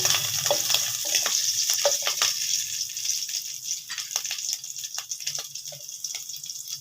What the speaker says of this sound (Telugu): ఆయిల్ అలా వేడెక్కింది కదా, దీనిలో మనము అల్లం, వెల్లుల్లి, పచ్చిమిర్చి సన్నగా తరుక్కొని వేసుకున్నాము.